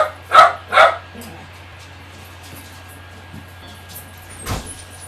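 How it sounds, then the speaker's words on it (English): A family dog barks twice in quick succession, loud and fairly close, then a softer sound follows later over a low steady hum, with no talking. "Family dog barks all the time."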